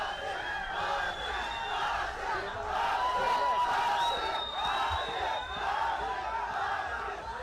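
Fans at the Matrix Fight Night MMA event cheer and whoop in a loud, sustained roar filling a large indoor arena, with voices rising and falling in waves.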